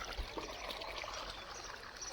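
Irrigation water runs into a cotton field, a faint, steady trickling stream with a soft, continuous wash and no talk over it.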